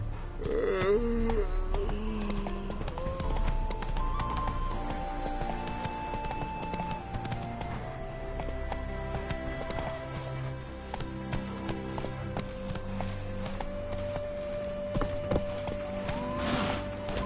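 Hooves of Roach, a horse in a PS4 video game, clip-clop in a steady rhythm throughout, close and clear, over a sustained musical score with no talking.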